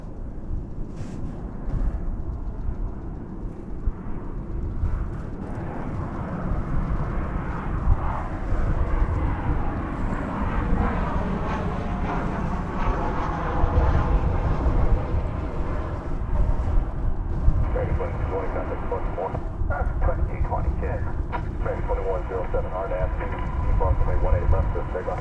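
An airplane landing at DFW Airport, a broad continuous engine roar from a distance that swells and holds for the whole stretch, with no voice over it.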